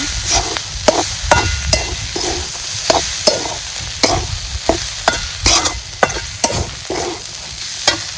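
Raw papaya vegetables frying in a pan while being stirred, a rhythmic series of spatula scrapes and knocks over a constant sizzle, close up.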